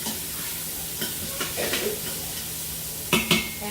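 Onions sautéing in oil inside a pressure cooker set to sauté, giving a steady low sizzle with a few stirring scrapes and two sharper utensil clinks near the end.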